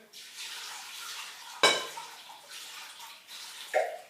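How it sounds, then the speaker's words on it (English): Water runs steadily over soaked almonds in a sieve or colander, with a sharp metallic clank and a later splashy knock as the sieve is handled. "Just put it to a sieve or a colander, and then wash it here."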